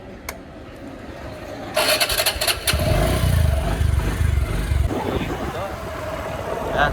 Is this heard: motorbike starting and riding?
yes